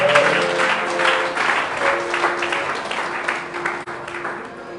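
A church congregation applauds together, a dense burst of clapping that gradually thins, with some voices mixed in.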